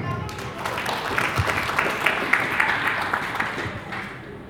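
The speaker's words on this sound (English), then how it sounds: "Golf claps, golf claps." An audience at a video game hall of fame awards ceremony gives a short round of light golf claps in a hall, with a presenter speaking over it.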